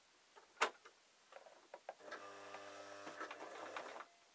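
A sewing machine stitches a string bag, starting with a sharp click and a few ticks, then running into a soft, steady mechanical hum, quiet and close.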